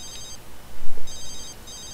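A telephone rings in The Sims 3 video game, two bursts of electronic bell trill separated by a short gap, clear and close over a low game background.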